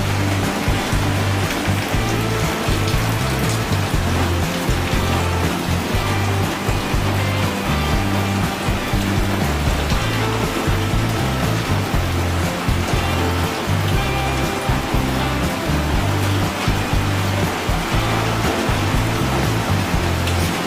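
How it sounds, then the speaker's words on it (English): Steady rain pours down beside a porch next to a fireplace, a dense, continuous hiss and patter that stays loud and even for the whole stretch with no voices. "Sit on the porch, just watch it rain."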